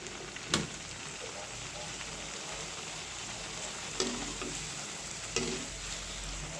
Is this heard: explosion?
no